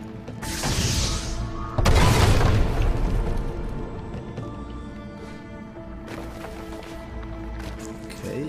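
A loud blast as a device is blown up in the video game Ori and the Blind Forest, a booming burst followed by a rumbling tail, with game music and effects carrying on afterward.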